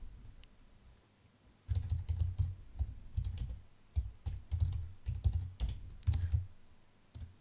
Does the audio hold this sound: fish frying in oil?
no